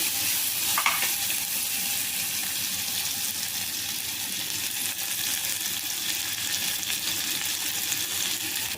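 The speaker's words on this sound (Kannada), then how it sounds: "ಈರುಳ್ಳಿ ಸ್ವಲ್ಪ ಚೆಂದ ಫ್ರೈ ಆಗಲಿ" Onions fry in a pan for cabbage kurma, giving a constant close sizzle and hiss with light stirring, one brief clink early on and no talk.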